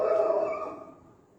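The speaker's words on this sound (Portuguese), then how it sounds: "com a cachorrada latindo" Dogs barking in a group at a home during an evening Mahashivaratri prayer gathering, a dense burst of overlapping barks that fades out over about a second, with no talk.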